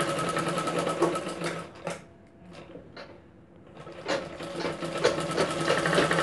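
A sewing machine stitches a cup-style princess-cut blouse, its fast mechanical whir running loud and close, pausing briefly in the middle before starting up again.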